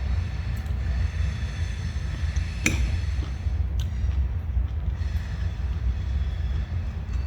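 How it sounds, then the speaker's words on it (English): A steady low rumble from a train carries on throughout, moderately distant, with a couple of brief clicks and squeaks over the drone. "I apologize if you could hear a train."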